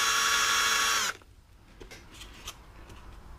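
A power drill bores into a broken statue, whirring loudly and steadily for about a second before stopping abruptly, followed by faint handling clicks.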